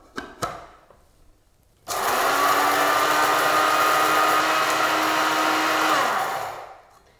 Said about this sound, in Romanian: Adăugăm și cuișoarele aici și le vom da puțin prin râșniță.